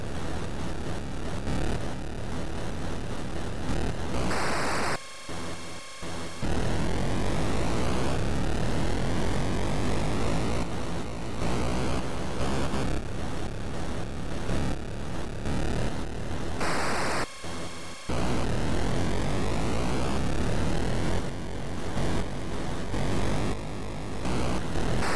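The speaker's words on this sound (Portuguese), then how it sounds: "Quem tava acelerando tanto, Maiquinha?" Car engine in the Atari Enduro racing game: a harsh, buzzy, static-like electronic drone that rises in pitch as the car accelerates, with brief dropouts and repeated climbs, loud and continuous with no talk.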